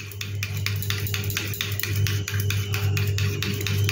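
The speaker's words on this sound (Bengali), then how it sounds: "এবার এই দইটিকে একটা চামচ দিয়ে ভালো করে প্রথমে ঘাঁটতে হবে" A spoon stirring yogurt in a bowl, producing quick, regular scraping clinks in a steady rhythm, close and clear over a low background hum, with no speech.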